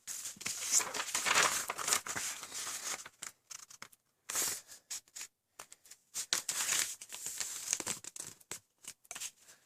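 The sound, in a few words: two sheets of paper being folded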